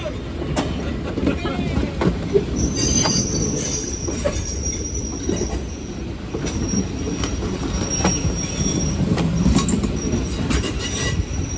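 A train on a historic railroad rumbles steadily along the tracks, wheels squealing in high, sustained whines over a low continuous roar, with faint voices underneath.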